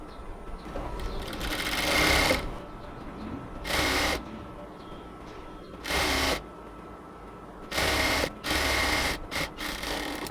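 Stitching the border of small baby shorts, a sewing machine runs in about six short, loud bursts of rapid whirring, separated by quiet pauses.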